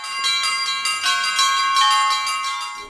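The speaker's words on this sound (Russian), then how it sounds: "с его колокольни теперь ежедневно по окрестностям разносится мелодичный звон" Church bells ring from the bell tower of a women's monastery church in Sochi in a rapid, overlapping peal, bright and resonant, sounding steadily throughout with no voices.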